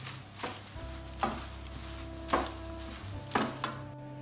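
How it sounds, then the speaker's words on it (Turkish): Courgette and aubergine pieces being tossed by hand with olive oil in a baking tray, a soft wet stirring with four evenly spaced squelchy turns over a faint background hum. "Biraz daha elime koyup şöyle karıştırıyorum."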